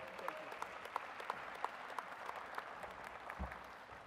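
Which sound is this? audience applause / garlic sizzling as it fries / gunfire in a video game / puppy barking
audience applause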